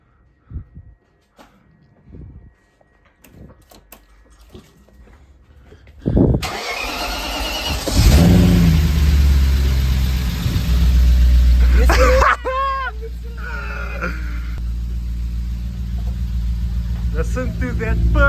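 A BMW E34 540i V8 cranks and fires up after sitting for two years, roaring loudly at first before settling into a steady, close idle, with a voice briefly heard early on.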